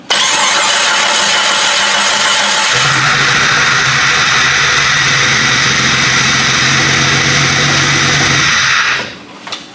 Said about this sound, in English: If it fires up, I'm just going to cut it right back off and crank it here in a minute.